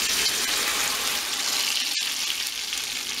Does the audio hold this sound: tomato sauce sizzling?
yes